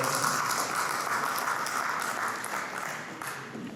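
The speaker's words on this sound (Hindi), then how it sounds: "एक बार सभी तालियां बजा के उनका स्वागत" An audience at a media festival applauds to welcome a speaker, with steady, dense clapping that sounds like rain and tapers off slightly toward the end.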